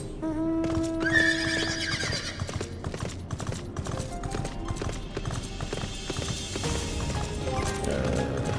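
In Final Fantasy XIV: Endwalker, a horse whinnies loudly near the start, then hooves clop steadily along with jingling tack and game sounds layered on top.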